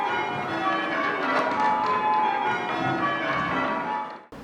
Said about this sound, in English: the art of bell ringing